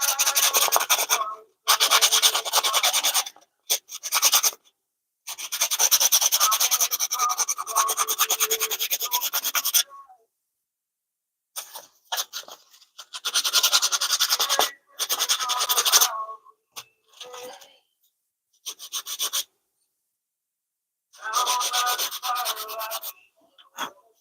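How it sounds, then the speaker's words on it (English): Sandpaper rasps against a wooden fishing bait in loud close scratchy strokes, coming in bursts of rapid rubbing separated by silent pauses. "I'll probably sand some of this chunky stuff off it though."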